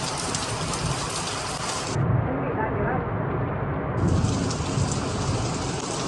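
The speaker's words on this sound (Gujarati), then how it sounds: "જો ફૂલ વરસાદ ને પવન ને બધું છે" Heavy morning monsoon rain in Surat pours steadily with gusting wind shaking coconut palms, a dense loud roar that barely lets up, and a voice speaking beneath it.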